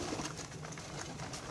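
Pigeons in a breeding loft housing Kabli and patti-marked high-flying birds with chicks give soft, continuous cooing, a murmuring low chorus close by with a steady background of rustling.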